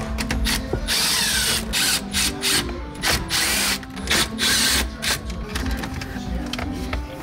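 A power drill or driver whirs in repeated short bursts, spinning out four small bolts holding an old car stereo in place, loud and close with brief pauses between runs and no talking.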